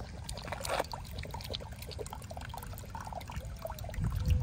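Drinking water being poured out for a dog on an outdoor hike, a soft continuous trickle and splash that is fairly faint against outdoor background noise.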